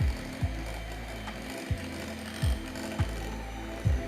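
An electric mixer runs steadily at slow speed during a bakery demo, making a constant mechanical drone. Regular knocks or clunks repeat about every half second to second over the hum, and no talk is heard.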